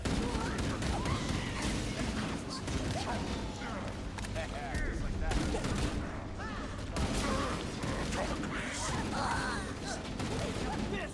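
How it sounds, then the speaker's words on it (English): Marines fire guns in the Halo Campaign Evolved Pillar of Autumn level, a dense, continuous fusillade of overlapping shots and impacts, loud and steady throughout, mixed with voices talking over the firefight. "they got the Marines still shooting dead bodies"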